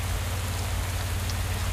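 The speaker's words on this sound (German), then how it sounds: "Strömender Regen." Pouring rain in the cycling game Pro Cycling Manager 2022 during a Deutschland Tour stage, a loud, steady, dense hiss of downpour with a low rumble underneath, alone and unbroken.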